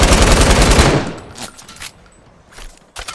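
A loud, rapid burst of assault rifle fire in the video game Fortnite lasts about a second, followed by a few scattered, fainter single shots.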